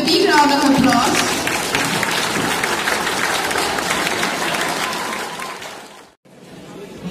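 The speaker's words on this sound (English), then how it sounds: "give a big round of applause." An audience at a headmistress's farewell applauds with sustained clapping and crowd noise, fading out with a brief silent gap before more sound returns.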